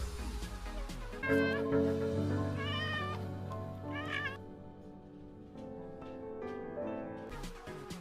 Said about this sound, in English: This cat is meowing desperately at anyone that will listen